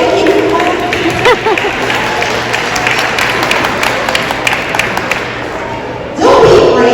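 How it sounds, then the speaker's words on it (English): An audience at an MLK celebration keynote in Ocoee applauds in steady, dense clapping with a few thumps, then rises into louder cheering at the end. "It's okay, you can clap."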